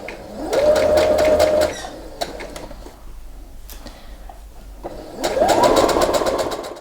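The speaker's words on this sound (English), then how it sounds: "So then just continue sewing a 1/2 inch seam around the entire outer edge of the blanket." A sewing machine stitches a half-inch seam around the outer edge of a baby blanket in two separate bursts of close, even whirring and rapid needle clatter, with a quiet pause between them.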